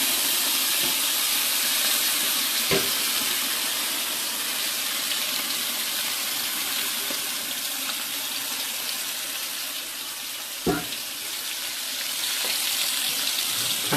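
Liquid pours in a steady, hissing stream into a big pot while pepper snail is cooked, with a couple of faint clunks, close and continuous throughout.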